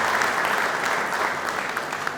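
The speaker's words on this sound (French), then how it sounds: "qu'on applaudit pour cette réalisation concernant la néonatologie" Hospital audience at an annual review event applauds a neonatology achievement, a dense sustained wash of many hands clapping, even and moderately loud with no pauses.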